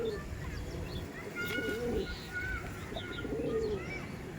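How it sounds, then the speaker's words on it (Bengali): Andhra pigeons coo in a loft in Shivpur, Howrah: repeated low, rolling coos, close and steady, with faint chirps and light background noise. "অনেক দিন পর একটা সুন্দর আন্ধ্রা পায়রা আপনার সঙ্গে দেখাতে চলেছি দেখুন"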